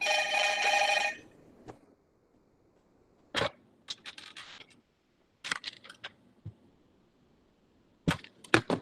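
A telephone rings with an incoming call: a bright trilling ring for about a second at the start, followed by scattered clicks and sharp tapping sounds with silence between them.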